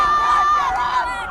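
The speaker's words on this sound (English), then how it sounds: "And the crowd is getting a little hectic." Crowd cheering at a high school boys varsity soccer tournament match, loud mixed shouts and a high, sustained whoop rising over the noise, close and energetic.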